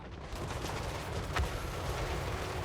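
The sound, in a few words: cannon fire from a video game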